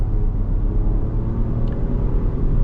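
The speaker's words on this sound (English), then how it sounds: "The eco mode definitely lets it be a bit more conservative. And then if we just slowly accelerate in that," A 2025 Nissan Rogue Rock Creek accelerates slowly in eco mode, heard from inside as a steady low engine and road rumble with a soft, even drone and no sharp whine.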